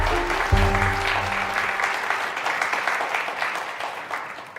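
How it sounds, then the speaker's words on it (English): A studio audience at a portrait painting competition breaks into loud, sustained applause that fills the room and fades slightly over several seconds, with a low musical tone sounding briefly underneath. "That's a lot of applause"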